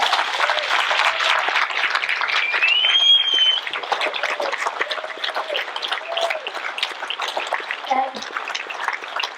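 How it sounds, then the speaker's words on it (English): Audience at a memorial program gives a sustained round of applause, dense steady clapping from a large crowd with scattered voices and cheers mixed in, then gradually thinning. "can we all give Dr. Scaff a nice round of applause"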